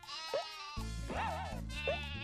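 Sheep in the video game Croc bleat repeatedly in wavering, nasal cries, several calls close together over a looping low musical backdrop.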